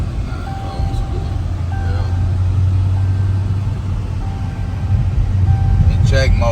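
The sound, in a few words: Dodge 392 Scat Pack engine driving in sport mode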